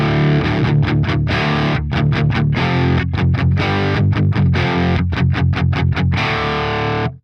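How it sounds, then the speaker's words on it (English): Electric guitar played through a Marshall JCM-2000 amp with the pedal off, giving a crunchy overdriven tone; loud, rhythmic chugging chords with brief choked gaps, played alone without talk. "And here's what it sounds like with the pedal off."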